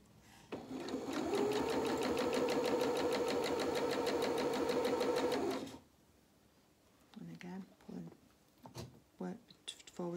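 A sewing machine runs steadily for about five seconds, reinforcing the hem of French knickers with a rapid, even stitching rhythm. It then stops, and a voice talks briefly with light handling sounds.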